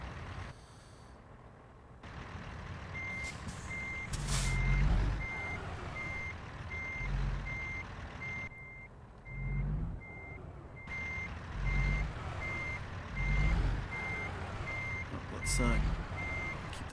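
Reversing beeps from a truck backing up in American Truck Simulator, a steady run of evenly spaced electronic beeps over engine rumble and occasional air-brake hisses, with a voice talking faintly now and then.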